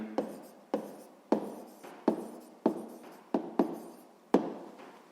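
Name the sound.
writing down a maths answer by hand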